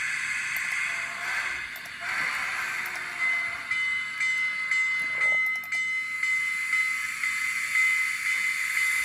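A Kato N scale FEF3 model steam locomotive fitted with an ESU LokSound V5 decoder and two speakers plays synthesized rail sounds: steady hissing steam and a rhythmic chuffing with clanking, continuous and fairly close.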